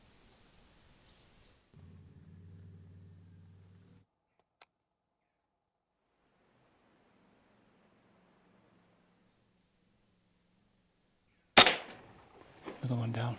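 A single sharp air rifle shot at a feral pigeon in daylight, a near, brief crack followed by rustling, standing out after long near-silence broken only by a faint low hum.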